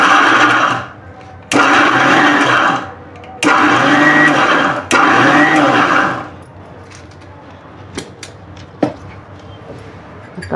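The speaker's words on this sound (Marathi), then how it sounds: "हे बघा, आता मिक्सरला आपण चटणी वाटून घेऊ." A kitchen mixer grinder churns coconut chutney for idli in three loud, short pulses, each about a second long and switched on and off, followed by faint clinks and quiet.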